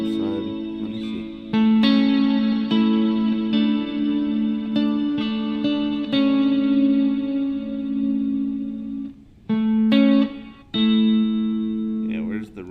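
Sustained, heavily reverberant guitar chords run through a Meris MercuryX reverb pedal on a room setting, loud and close, with notes swelling and ringing into each other and brief gaps between phrases.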